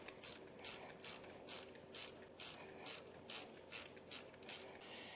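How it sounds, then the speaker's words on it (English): Small quick-release ratchet wrench clicking in about ten short bursts, each a brisk run of close metallic clicks, on Lambretta cylinder removal work in a garage with the engine in the frame. "I keep switching my switch on my little ratchet"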